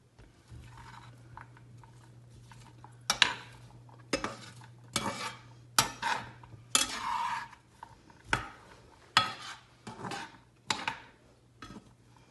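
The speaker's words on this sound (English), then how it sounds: "he's going to use his spatula to kind of move the onions around as they cook" A spatula scrapes and knocks against a pan as onions cook for sloppy joes. The clatters come in short irregular bursts over a low steady hum, close by, with no talk.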